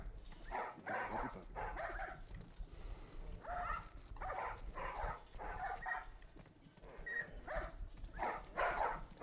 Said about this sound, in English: Why is there some dog barking?